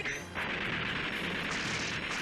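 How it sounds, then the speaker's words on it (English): An anime Gundam, braced on its hands and knees, fires a back-mounted cannon: a dense, loud blast that dips briefly then roars on as a sustained booming burst. "What a horrible stance for a Gundam to be on its hands and knees trying to fire a cannon on its back."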